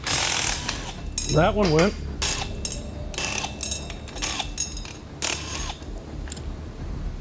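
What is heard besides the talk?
ratchet spinning a crusty motorcycle stud out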